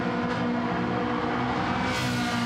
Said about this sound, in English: Just listen to that. Lovely aggressive downshift.